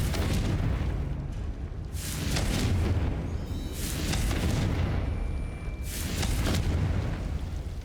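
Confringo fire spell blasts in Hogwarts Legacy, several booming explosive bursts recurring every couple of seconds over a dense, loud, roaring wash of game noise, with no talk heard.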